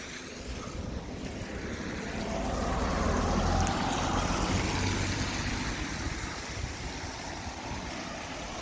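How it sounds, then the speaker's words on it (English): The River Eden flowing beside a bridge at Appleby, a steady outdoor wash of moving water with wind buffeting the microphone, swelling slightly midway and holding at a constant moderate level throughout with no talk. "And this is the River Eden."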